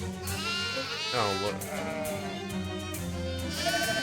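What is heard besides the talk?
sheep bleating in video game Shadows Over Loathing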